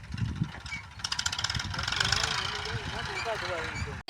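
A tractor engine runs on a farm, with a low, throbbing idle that beats quickly and grows steadier, while voices carry over it before it cuts off abruptly.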